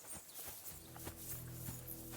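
Horses in the medieval video game Kingdom Come: Deliverance II, hooves clip-clopping in a loose walking rhythm with a few snorts, faint and close over a soft ambient background.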